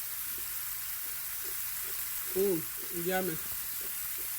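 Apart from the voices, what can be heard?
roast beef and vegetables sizzling in a pan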